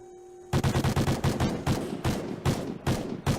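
Rapid, loud gunfire in a Call of Duty Ghosts 4v4 tournament match comes as a dense run of close shots in quick bursts, starting abruptly after a quiet moment.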